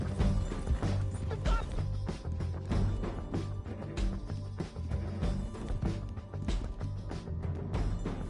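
Horse hooves clip-clop in the Red Dead Redemption 2 video game, a dense run of rapid, fairly loud hoofbeats over a low rumbling background, with brief faint voice fragments.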